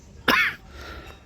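One short, sharp cough close by during a group visit to a Minangkabau cultural museum in Bukittinggi, with soft ambient murmur before and after.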